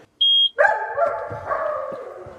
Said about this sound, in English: That's the dog noise. That's not the tractor doing that.